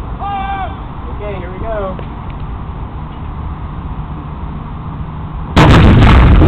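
A historic cannon at Fort York fires a gunpowder cartridge, a sudden very loud blast erupting near the end after a quieter stretch of outdoor ambience with birdlike calls.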